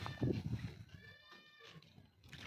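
Goat bleating on a goat farm, a wavering bleat partway through and another call near the end, over low farmyard noise and some lower grunting at the start.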